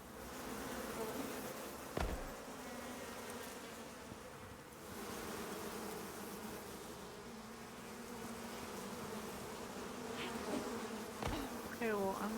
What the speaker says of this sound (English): Let's just deal with the bees first.